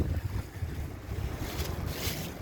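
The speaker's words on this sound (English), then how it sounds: "I'm going to add some water to the bowl" Water is poured into an American Standard Plebe toilet bowl, making a low, rushing, turbulent splash that swells and churns close by with no talking.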